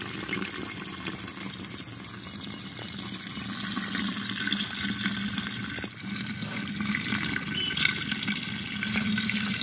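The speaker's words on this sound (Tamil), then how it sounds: "9 டம்ளர் வந்து தண்ணி ஊத்த போறேன் இதல." Water is poured from a tumbler into a clay pot while cooking prawn biryani in a village kitchen, a steady moderate splashing stream that runs without pause and with no voices.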